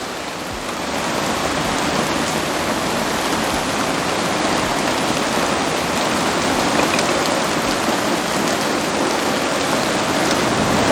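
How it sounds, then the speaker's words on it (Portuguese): Heavy rain pours down steadily as a dense, unbroken hiss, loud and close, holding the same intensity throughout with no voices. "Olha isso, tá chovendo bastante."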